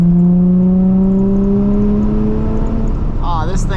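A Nissan 350Z with a muffler delete drones loudly and close, its exhaust note slowly rising in pitch as it revs, with a brief whir near the end.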